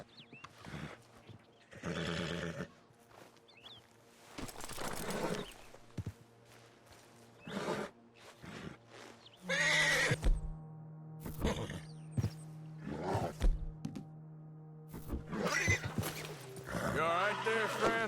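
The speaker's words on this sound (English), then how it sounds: "Oh, shit, the horses! Damn horses!" Horses whinny and snort at intervals in a Western-style video game, several neighs rising over background music while someone talks between them.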